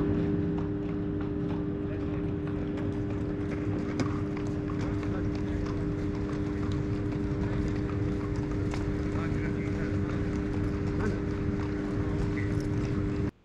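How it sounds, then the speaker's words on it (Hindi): Horses brought in for sale at a horse sale in Kuwait, hooves clip-clopping steadily and fairly close over a constant mechanical hum, with no talk heard. "तो यहाँ पर ये सभी घोड़े आ रहे हैं जो बाहर से सेल के लिए आए हुए हैं।"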